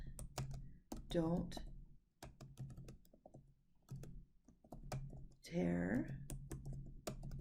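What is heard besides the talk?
typing a note on a computer keyboard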